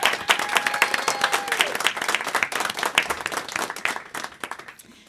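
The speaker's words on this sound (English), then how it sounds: "So a big round of applause." Concert audience breaks into a big round of applause, dense steady clapping from a crowd that carries on throughout and thins slightly toward the end.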